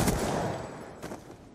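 Gunfire in the video game Black Ops 2, with a dense burst of shots at the start and a second cluster near the end over busy game noise.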